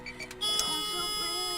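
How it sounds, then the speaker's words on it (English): Seatbelt warning chime in a Mazda MX-5 sounds as a steady repeating electronic beep inside the car, fairly close and clear, with no talking over it. "I don't have my seatbelt on, so it's gonna have a really annoying beep."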